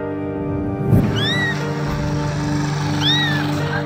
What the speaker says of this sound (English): People heard a small blinded kitten crying and decided to help.